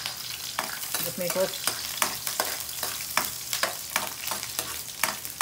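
Garlic frying in a pan while being stirred by hand: a steady sizzle broken by repeated sharp scraping strokes of a utensil, close and fairly loud.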